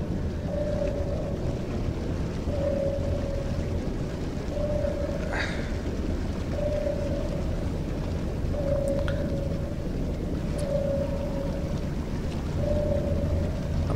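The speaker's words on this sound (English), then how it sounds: "Some deep groaning sounds from outside" Deep, drawn-out groans sound from outside a leaking submarine in the Barotrauma video game: a string of steady tonal moans repeating about once a second over a constant low rumble of water and hull, with one rising wail midway.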